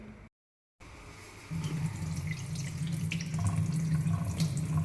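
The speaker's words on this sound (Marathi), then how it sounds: "पाणी काढून टाकू यातून" Water is drained off washed sago pearls (sabudana), a steady near trickle and splash that grows fuller and louder after a brief break.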